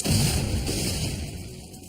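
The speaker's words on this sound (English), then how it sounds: "There was a progressive experimentation using dynamite to find out the extent of damage particular strands of dynamite would cause." A dynamite explosion set off in a blast damage test, a heavy boom already underway that rumbles low and slowly decays, with no other sound around it.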